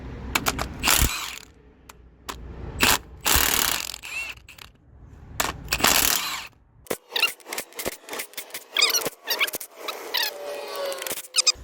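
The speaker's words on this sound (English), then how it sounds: "I'm going to take all these studs out with the actual socket" A socket ratchet clicks rapidly at close range while head studs are backed out of a 12-valve-swapped third-generation Cummins diesel during teardown, in bursts of ratcheting separated by metallic clanks and short pauses.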